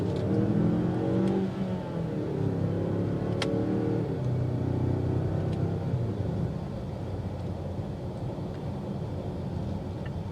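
A 2023 Mazda CX-9 Carbon Edition accelerates on the road, its engine rising in a smooth rumbling pitch sweep that then settles into a quieter cruising drone with steady road noise.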